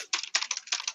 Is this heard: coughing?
no